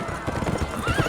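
Horses galloping and neighing in a film scene: loud, rhythmic hoof clip-clops pound close by, and a rising whinny cuts in near the end.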